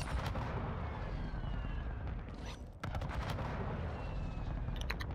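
Airstrike explosions in Warzone 2 thunder in a rumbling, overlapping series of heavy blasts and booms. The barrage briefly dips mid-way before more impacts roll in, moderately distant and quiet overall.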